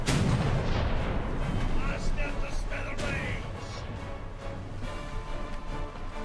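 Ship cannons boom in a broadside during a pirate video game, a dense run of heavy blasts and crashing impacts over the first seconds that thins to rumbling, with excited players shouting over the gunfire.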